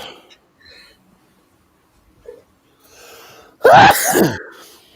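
A single loud, sharp sneeze near the end, preceded by a quick intake of breath amid quiet background noise.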